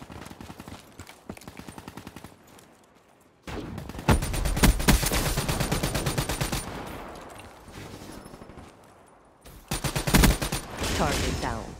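The BRM light machine gun fires in Black Ops 3 multiplayer, loud sustained automatic bursts with rapid close rounds, a short quiet gap, then more long bursts, over faint game background sounds.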